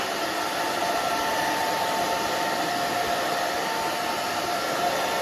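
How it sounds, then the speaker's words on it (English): A blow dryer roars steadily and continuously at close range while drying hair after a pixie haircut, a constant whooshing hum with no speech. "then we're gonna take the blow dryer"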